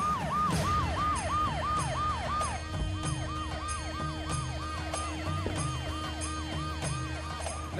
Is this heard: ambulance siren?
yes